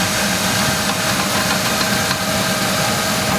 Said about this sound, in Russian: Может такое быть, что это стучат гидрокомпенсаторы